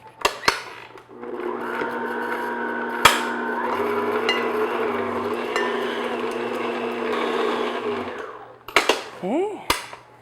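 Electric hand mixer beating room-temperature unsalted butter in a bowl for tea cake frosting, a steady whirring drone for about seven seconds, starting and stopping abruptly, with brief clatters and knocks before and after.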